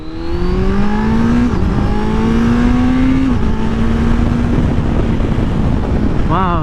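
A 2020 Kawasaki Z900 motorcycle accelerates hard through several rising gears with a quick shifter, the engine note climbing and dropping sharply at each shift under strong wind rush, close and loud.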